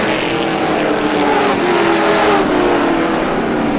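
Race cars roar around the Star Speedway oval during the GSPSS 100, a loud, steady engine drone with pitch swells as cars pass, with no talking.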